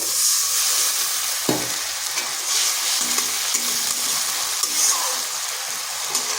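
Ginger-garlic paste frying in a pan, a loud steady sizzle with stirring scrapes, and a splash of water added that briefly shifts the hiss; close and continuous, with no talk over it.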